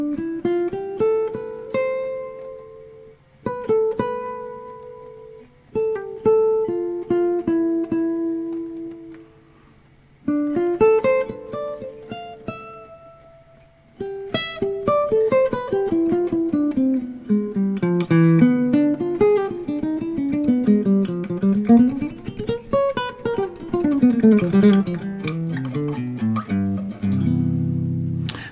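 Clean electric guitar played through a Fractal processor with light reverb, a solo line of plucked single notes and short phrases that builds into faster flowing runs rising and falling, ringing alone with soft decay.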